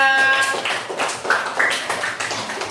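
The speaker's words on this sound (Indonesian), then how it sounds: "tepuk tangan buat semuanya" A school class gives a short burst of applause, quick hand claps rising and tapering over a few seconds, fairly close and without talk over it.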